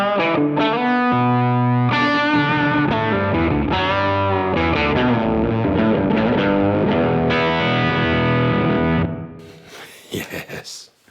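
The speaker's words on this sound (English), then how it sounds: "that does low octave volume swells if" Electric guitar through a Beetronics Zzombee pedal playing low octave volume swells: thick, fuzzy, distorted chords fade in and sustain across several notes, then break into choppy, fading bursts at the end.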